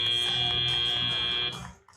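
A loud, steady electronic buzzer sounds for about a second and a half to end a match at an FTC robotics championship, then cuts off, leaving arena noise.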